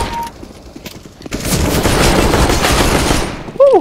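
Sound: shotgun gunfire in Counter-Strike: Global Offensive video game

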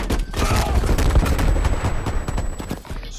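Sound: gunfire and grenade toss in a video game

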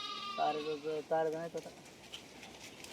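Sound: sheep bleating in a flock

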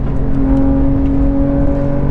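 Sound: 2022 Porsche 911 GT3 engine accelerating on road

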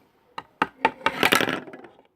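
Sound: mirror falling down

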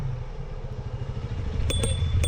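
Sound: motorcycle passing by

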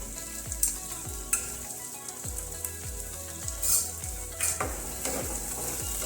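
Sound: stirring capsicum into frying Amritsari paneer bhurji

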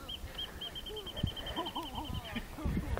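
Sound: birds calling in a park

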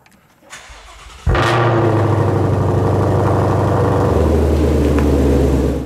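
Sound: Shelby GT500 engine cold start

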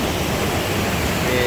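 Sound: loud rushing water at Gumunso pool, Taebaek

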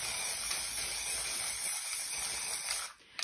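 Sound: spray paint aerosol spraying onto collage paper

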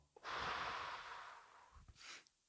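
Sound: a deep breath

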